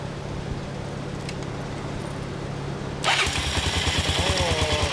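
A Honda CB400SS single-cylinder motorcycle with twin mufflers is started by its electric starter and catches abruptly, settling into a loud, close, rhythmic thumping idle.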